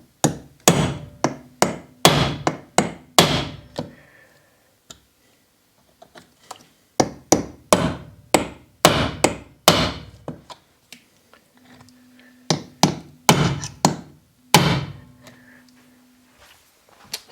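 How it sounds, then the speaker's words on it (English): Sharp hammer blows on a metal punch, marking hole positions through a glued template onto a metal plate for a DIY plastic injection machine's bottom plate. Several rapid bursts of ringing strikes come close together, separated by short pauses. "I'll now use the punch to transfer the holes onto the metal plate."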